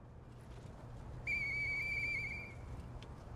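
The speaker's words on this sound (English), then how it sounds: "I know that whistle." A clear, steady whistle tone from the Castlevania: Dawn of Sorrow video game holds for about a second over low game ambience, with no speech.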